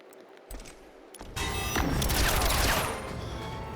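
Rapid bursts of gunfire from Mortal Kombat 11 crackle in a dense, loud volley after a couple of sharp initial shots, then fade slightly but continue.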